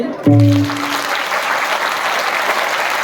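An audience at a kirtan gathering breaks into loud, sustained clapping after a short tonal sound at the start, the applause dense and continuous to the end.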